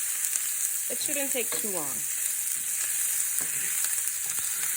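Diced onions and garlic sizzle in a pan while being stirred, a steady close crackling hiss that runs throughout, with a brief spoken remark early on.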